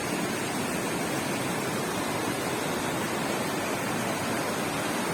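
Water rushes over a waterfall at the Mendelikha falls park near Rosa Khutor, a loud, dense, unbroken roar close by, with no talk.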